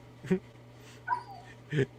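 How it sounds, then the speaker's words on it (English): A dog whimpers and yips in the background of a podcast recording, three short high whines spaced out across the moment over a steady low hum. "Is there a dog whining somewhere in somebody's background?"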